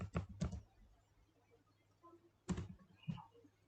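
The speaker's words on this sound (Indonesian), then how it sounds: "menghapus layar, yaitu dengan mengetik perintah clear" A few soft, scattered clicks and taps of a computer keyboard as the clear command is typed in Linux Ubuntu, quiet and close, in two short bursts separated by a pause.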